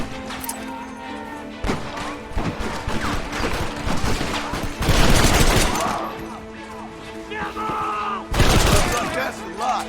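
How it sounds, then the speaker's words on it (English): Video-game gunfire in a Red Dead Redemption shootout, loud volleys of rifle and pistol shots crackling in dense bursts with crashes between, while characters shout over the fighting. "Keep shooting!"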